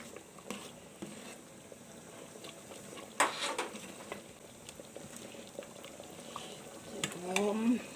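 Thai fermented soybean paste sauce comes to a boil in a pot, a soft steady bubbling patter with occasional louder pops, faint and close, with a brief voice near the end.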